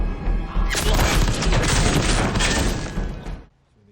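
A dense burst of rapid gunfire from a gang shootout in a film crackles for about three seconds, loud and chaotic, then cuts off abruptly into near silence.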